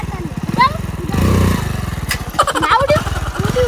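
Motorcycle engine running with a steady pulsing putter, revving up briefly near the middle, close by, with people talking over it throughout.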